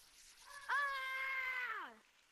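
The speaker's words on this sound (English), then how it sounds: "Did I just hear a scream?" A single drawn-out scream with a strained, tonal quality holds steady for over a second, then slides downward in pitch and fades, moderately loud against a quiet background.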